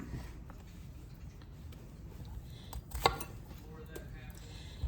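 A knife chopping fruit into smaller pieces for a little tortoise, a few soft, sparse cuts on a board at close range, with one sharper knock near the end and no voices.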